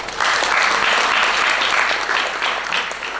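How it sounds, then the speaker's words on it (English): Warm, steady applause from a conference audience for a speaker at an academic gathering, filling the room continuously for about three seconds with no voices over it. "please give another round of applause for our speaker once again"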